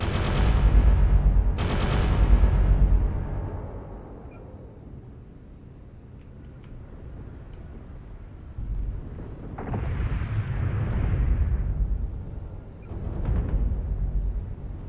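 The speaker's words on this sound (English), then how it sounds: "I can fire those out. And I can alpha strike these." A mech fires an alpha strike in MechWarrior Online: two heavy, booming weapon volleys up front, then a quieter rumble, a sustained hissing blast and a last loud burst.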